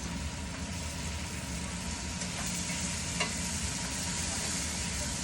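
Sausage mix stirred in a hot pan with orange and lemon, a steady broadband sizzle and frying hiss running throughout with faint scraping of the spoon, close and even, no talk.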